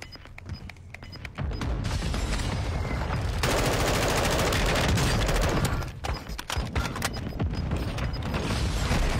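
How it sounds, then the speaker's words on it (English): Mortar strike explosions and heavy gunfire in a video game battle, loud dense bursts of shots and booms running almost continuously, with a brief lull and a sharp cluster of blasts near the end. "Mortar strike near your position."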